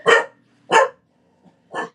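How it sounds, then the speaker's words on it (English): Dogs of a supposedly non-barking breed give three loud, close barks about every three quarters of a second, with a faint yip between the last two. "They're supposed to be the non-barking ones, but they're barking, so who knows."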